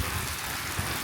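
Rain falls steadily and densely during a cycling trip over a hilly route, a continuous loud wash of hiss with low rumbling underneath.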